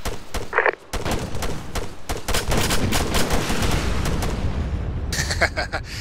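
Rapid gunfire in Arma 3 aimed at a vehicle, with dense bursts of rifle and machine-gun shots cracking repeatedly over several seconds, close and loud, with voices briefly heard.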